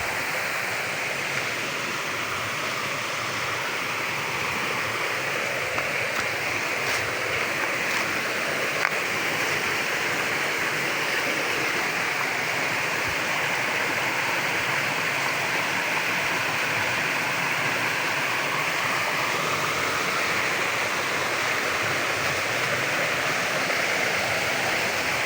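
Water pours from a natural spring in a steady, full rushing flow like a small stream or cascade, close and continuous throughout with no talk over it.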